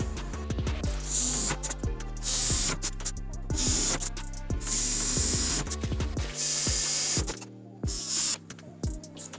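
A power drill bores quarter-inch holes through a metal mount for an ATV winch. The close, loud whine runs in several bursts with brief stops and grinding, ratcheting texture between them. No one speaks.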